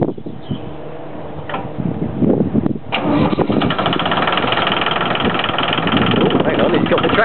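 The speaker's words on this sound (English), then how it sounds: "he's got the tractor going" A farm tractor engine rumbles and chugs steadily after a brief quieter lead-in, its rough, vibrating drone continuing loudly as the machine is driven off, with a voice talking over it.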